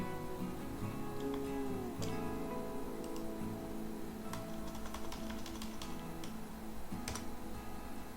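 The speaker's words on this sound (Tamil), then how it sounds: "லோக்கல் ஹோஸ்ட் அப்படிங்கிறத நான் வந்து டைப் பண்ணிடுறேன்" Someone types on a computer keyboard, and faint scattered key clicks tap irregularly over a steady, loud background hum.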